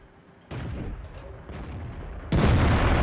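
A heavy tank gun booms in World of Tanks, first a sustained rumbling blast and then a louder, sharper roar near the end, close and alone without voices.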